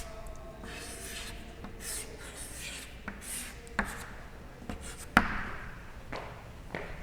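Chalk or marker scratching across a classroom board as a diagram of an open interval is drawn, a series of short rubbing strokes and sharp taps, close and fairly faint.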